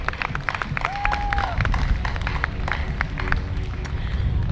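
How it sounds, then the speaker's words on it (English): Audience applause at a gathering welcoming an Anakbayan youth organization representative, dense continuous clapping from a crowd, fairly loud, with a brief tonal whistle-like sound early on. "So please, with a big round of applause for the representative of Anakbayan here today"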